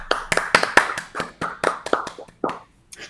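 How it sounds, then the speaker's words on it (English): Hosts clap their hands on a baseball podcast, a quick irregular series of sharp, close claps, about a dozen over three seconds, with no talking. "I know we're a big clapping podcast"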